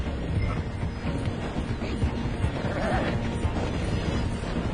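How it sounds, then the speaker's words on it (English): Train slowing through a station in Red Dead Redemption 2 makes a dense rumbling clatter of rolling wagons, loud and continuous, with faint horse sounds mixed in. "The train is slowing down to go through the station."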